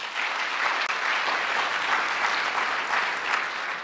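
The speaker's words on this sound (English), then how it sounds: "Nice round of applause for her" An audience at a public health gathering applauds the Philadelphia health commissioner, a national food-policy leader: steady, dense clapping from many hands that fills the whole stretch at an even level, with no voices over it.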